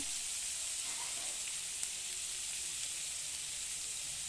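Onions fry in oil with bay leaf and turmeric for a Tripuri desi chicken dish, a soft, steady, even sizzle heard close up and alone.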